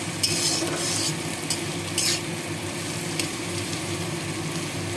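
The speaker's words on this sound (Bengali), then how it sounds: "পেঁয়াজটা একটু ভাজা হোক" Chopped onion frying in a pan, a continuous close sizzle with several sharp scrapes and clinks as a utensil stirs it.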